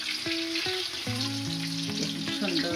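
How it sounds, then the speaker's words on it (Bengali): Eggplant pieces deep-fry in hot oil with a dense, constant crackling sizzle, close and even throughout, while soft melodic tones play underneath. "এভাবে আমি সবগুলো বেগুন আগে ছাকা তেলে ভেজে নেব"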